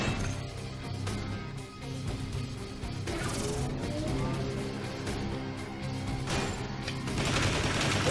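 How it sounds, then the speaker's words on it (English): Assault rifle fire in the Transformers War for Cybertron video game rattles in dense, loud bursts almost continuously, with crashes and impacts mixed in and no voices. "the assault rifle is terrible, and I'm out of ammo"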